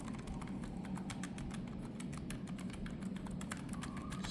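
Typing on a NocFree Lite keyboard fitted with Kailh Hush Deep Sea silent tactile switches, a steady run of soft, muted keystrokes in quick uneven rhythm, close up and fairly quiet, with no voices.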